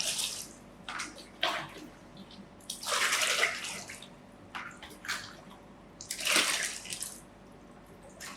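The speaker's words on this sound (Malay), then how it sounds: "Bila sudah larut, kita akan penuhkan air." Tap water gushing into a container to mix fertilizer solution for an urban farming kit, several loud filling bursts separated by pauses, close and without talk.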